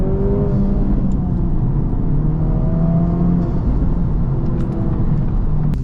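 Acura Integra Type S on the road, a steady, loud interior drone of engine and road noise with a low rumble holding even throughout, no talking.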